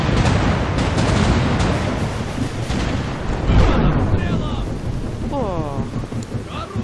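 Heavy booming cannon fire striking a ship in a pirate naval-combat video game, dense rumbling blasts and crashes filling the scene, with someone speaking Russian over part of it.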